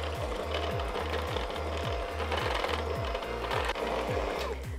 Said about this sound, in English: Now that's all sifted in, time to mix it together.